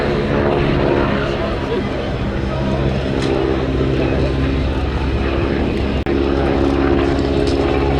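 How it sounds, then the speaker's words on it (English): A Boeing Model 75 biplane flies at the Little Gransden airshow, its loud propeller engine droning steadily and close throughout with a rough, continuous roar, while people talk quietly under the noise. "this is also known as the Boeing Model 75"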